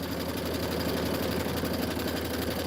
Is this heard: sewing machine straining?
yes